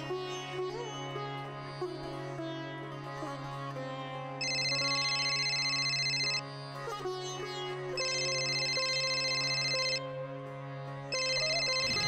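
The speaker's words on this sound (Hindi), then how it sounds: "बंसी का फोन" A telephone ringtone plays in repeated bursts, about three loud electronic ringing phrases a few seconds each, over a sustained background music bed, with no talking.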